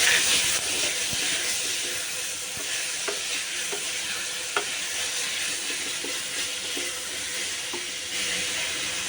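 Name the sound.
tomatoes being stirred and sautéed in a pan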